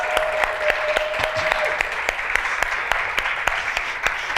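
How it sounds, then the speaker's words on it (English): An audience applauds the Grandmother Legacy co-authors at the Spring Forward 2018 opening ceremonies: steady, dense clapping from a full room that carries evenly throughout, with a brief tone sounding early on. "Let's give these ladies a round of applause."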